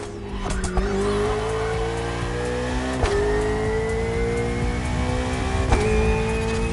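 An Italian car and an Austrian motorbike race in The Crew Motorfest, engines droning and rising in pitch, with sharp gear shifts and tire squeal at intervals, loud and continuous throughout.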